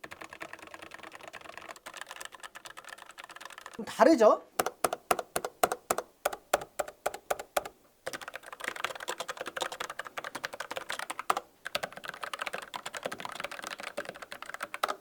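Rapid clacking of mechanical keyboard keys with red and brown switches, first a burst of distinct individual strokes, then quicker continuous typing, with a brief spoken remark near the start.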